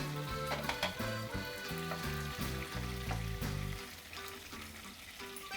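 Mustard seeds sizzle and crackle in hot oil in a pan, a steady close frying hiss with dense popping that eases toward the end.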